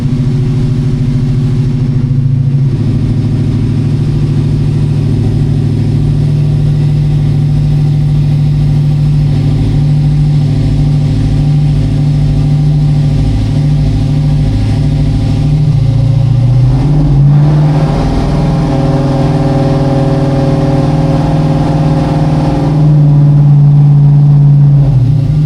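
Car engine runs on a Mainline ProHub hub dyno during steady-state tuning, holding a loud, constant drone with a brief RPM shift midway and a slight rise near the end, no voices.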